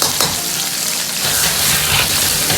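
Fish head sizzles in hot oil in a wok with ginger slices added, a loud, dense, continuous frying crackle with no voices.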